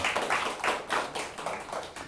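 Scattered audience clapping at a small talk gathering, a few soft bursts of hand claps in an uneven rhythm, fairly close and moderately quiet, with no voices.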